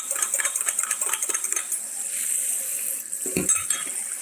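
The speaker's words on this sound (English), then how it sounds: "Rinse out my Pyrex measuring cup here" Water running into and sloshing around a Pyrex 2-cup glass measuring cup as it gets rinsed, with light clinks and splashes, close and moderately loud.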